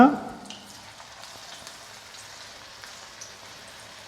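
Chilli pakoda frying in hot oil, beginning with a brief loud splash as the batter drops in, then a soft, even bubbling sizzle with scattered pops, heard close.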